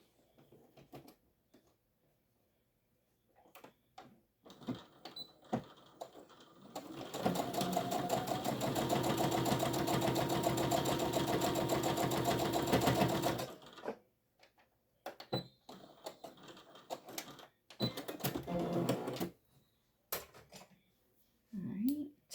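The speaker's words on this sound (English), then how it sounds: "So I'm just going to do a straight stitch." A sewing machine runs a straight stitch in one loud, steady mechanical burst of about six seconds, bracketed by soft clicks and handling clatter as fabric is positioned before and after.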